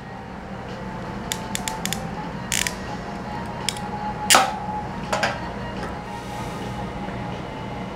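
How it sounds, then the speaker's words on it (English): Ratcheting wire crimper squeezing a connector seal during a Holley EFI install, heard as a series of sharp, close clicks and snaps, brief ratchet bursts spaced over several seconds against a low steady background hum. "Now the thing with these crimpers, they're ratcheting and they're self-loading."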